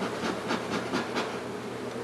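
Wild honey bees swarming around comb being transferred from a wall cavity into hive frames during a cutout rescue, a dense close buzzing that swells in a few pulsing waves, with no voices.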